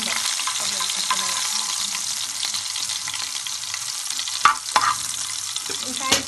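Minced garlic sautéing gently in a pan, giving a steady close-up sizzle with a couple of sharp spoon scrapes and clinks near the end.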